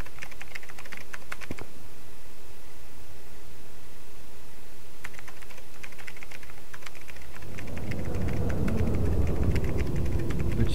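Steady rapid typing on a keyboard, close and continuous, with a rushing noise rising underneath in the final seconds.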